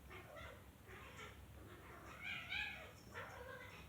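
Pet cats fight or play-fight late at night, with faint, muffled yowls and whiny cries rising in two short bursts, distant and quiet over a low background hum.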